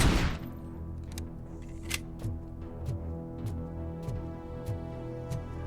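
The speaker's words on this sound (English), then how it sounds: "This weapon does fire a lot faster than I think it does a lot of the time" Rapid weapon fire in RoboCop: Rogue City, a sharp opening blast followed by a series of quick, fairly quiet shots spaced across a low hum.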